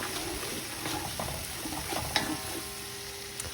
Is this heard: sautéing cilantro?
yes